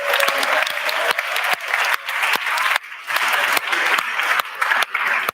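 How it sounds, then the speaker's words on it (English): An audience at a startup competition final event gives a sustained round of applause, dense clapping from many hands at close range with brief dips between swells. "A round of applause."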